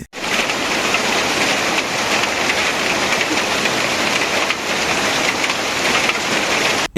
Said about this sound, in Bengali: এদিকে আবার বৃষ্টি নেমে গেছে